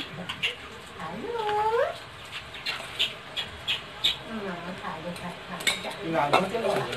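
Fried fish slid into a boiling fish curry in a pot for macher patla jhol, with clinks of metal utensils against the pot and soft stirring, while a person speaks and a cat meows nearby.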